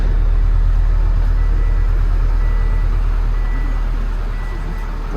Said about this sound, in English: A little bit of a rev.